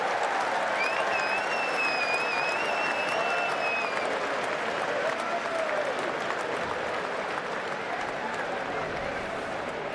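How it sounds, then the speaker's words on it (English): Cricket crowd at Lord's applauding steadily during an England v Australia Test, a dense, continuous wash of clapping and murmur that holds at an even level throughout, with a faint whistle near the start. "The crowd loving it."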